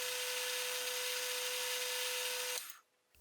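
A steady high-pitched grinding whine from a power tool deburring parted-off steel pump gears, continuous and close, then stopping abruptly near the end.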